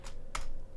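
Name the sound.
typing on a computer keyboard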